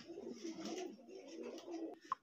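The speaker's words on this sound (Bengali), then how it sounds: "এখানে ব্ল্যাক কালারের এক জোড়া এক্সিবিশন কবুতর আছে" A pair of black exhibition pigeons at a fancy-pigeon farm coo softly in a low, rolling murmur of several throaty notes, quiet and close, with a brief sharp tap near the end.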